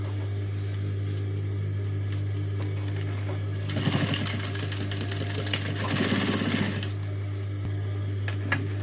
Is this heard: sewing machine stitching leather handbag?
yes